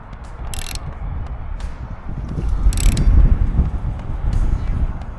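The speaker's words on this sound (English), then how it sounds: "Just tightening the last bolts up." Bolts being tightened on a Unistrut roof rack atop a Ford Transit camper van outdoors, a few sharp metallic ratchet clicks over steady wind rumble against the microphone.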